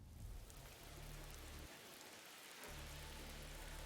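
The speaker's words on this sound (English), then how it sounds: "it's raining" Steady rain pours in Vermintide 2, a soft, even hiss of drops on surfaces with a low rumbling bed underneath that briefly drops out midway, then returns.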